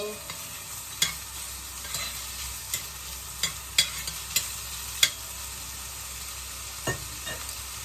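Bean stew simmering in a pan with a steady soft sizzle and bubbling throughout, broken by occasional distinct knocks and scrapes of a spoon stirring, close and moderately loud with no talk.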